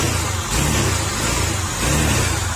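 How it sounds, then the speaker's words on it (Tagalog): A Honda Click 125 scooter engine revs loudly and gruffly in pulsing surges, close up, with a deep throaty rumble like a big bike and no voices. "parang big bike yung tunog"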